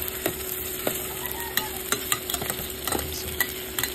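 Carrots and potatoes frying in oil for pork torta, a continuous close sizzle broken by sharp scraping clicks of a utensil stirring the pan every half second or so.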